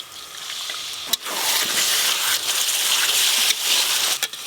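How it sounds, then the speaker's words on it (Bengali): Water splashes into a hot pan of ground cumin, coriander, chilli and turmeric frying in oil, setting off a loud, steady hiss and sizzle that stays close and continuous throughout. "একটু জল দেব"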